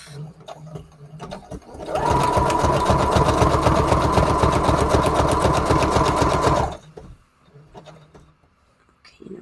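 A sewing machine runs a zigzag stitch on a junk journal project: a loud, steady rapid whir lasting several seconds, with quieter handling sounds before and after.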